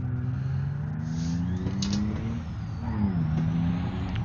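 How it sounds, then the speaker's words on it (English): A loud truck engine in the video game BeamNG revs and roars, with a rising turbo whistle and a sharp hiss of released air; no one speaks. "Wow, that truck turbo is loud."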